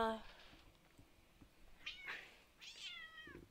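A cat meows twice, drawn-out and wavering, fairly close in a quiet room with faint background noise.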